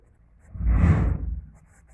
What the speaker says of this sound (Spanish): Entonces escribimos aquí